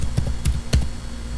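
Several quick keystrokes on a computer keyboard, close and crisp, in two small bursts with a faint steady hum behind.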